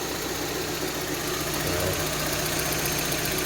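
A restored car engine idles steadily and loudly right next to the microphone, a continuous broadband rumble with a faint knock-like texture and no voices.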